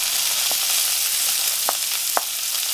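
Shrimp and seasoning sizzle steadily in a cast iron skillet, a constant bright hiss with a few soft knocks of a utensil against the pan.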